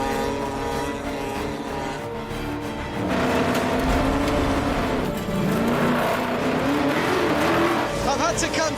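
A car sliding and revving over a thin layer of stones on volcanic ash, engine note rising and wavering with loose crunching and skidding, loud and close, someone talking over it.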